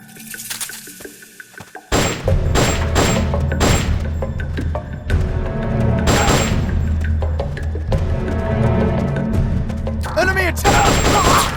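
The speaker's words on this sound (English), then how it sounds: "An explosion!" Loud explosions and bursts of combat noise in Metal Gear Solid: Peace Walker, heavy booms with crashing impacts following one another over a steady rumbling backdrop.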